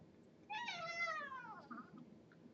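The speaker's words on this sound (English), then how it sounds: "Just had a cat meow really loud in the middle of a yawn." A single loud, drawn-out cat meow, made mid-yawn, rises and then falls in pitch before trailing off, heard close against a quiet background.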